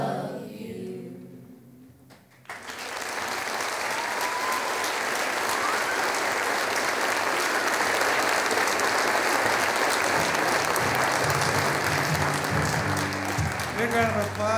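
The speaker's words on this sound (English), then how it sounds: "Big round of applause for Bev Ludwig's 5th grade of St. Charles School, Elementary." After the tail of a fifth-grade class's song at a St. Charles, Minnesota community celebration, an audience breaks into loud, sustained applause that fills more than ten seconds at steady volume.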